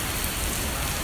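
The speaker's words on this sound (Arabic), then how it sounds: "مطر غزير ما شاء الله صبيب" Heavy rain pours steadily outdoors at a sports club, a dense, constant roar of water without any break.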